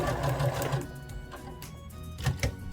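Sewing machine stitching the top of a pair of bear overalls, a close, steady mechanical whirring hum with rhythmic needle clatter running throughout, no talking.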